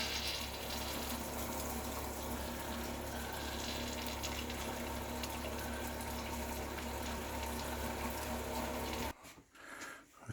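Water running steadily from an RV faucet during winterizing, a constant hiss and gush with a pump hum underneath, cutting off abruptly near the end.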